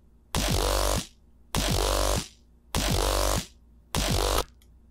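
A G riddim growl bass synth with its effects chain switched off plays four loud, sustained bursts about a second apart with gaps between, a buzzing, gritty tone with no voices.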